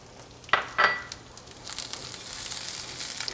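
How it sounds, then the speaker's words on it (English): An onion is added to hot oil in a pan: two sharp clatters, then a rising sizzle of frying that swells and holds steady, close and moderately loud. "now we're going to fry our onion for a couple minutes"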